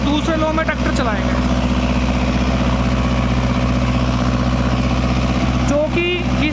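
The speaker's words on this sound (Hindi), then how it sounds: "भाइयों, दूसरे लो में ट्रैक्टर चलाएंगे" A Mahindra NOVO 655 tractor pulls a 9-foot Param rotavator through heavy black clay soil. The loud diesel drone is steady and close, with a constant low throb, and brief voices come in near the start and end.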